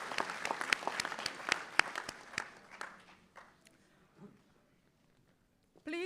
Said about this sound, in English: Let's please give them a round of applause for their hard work in making this commencement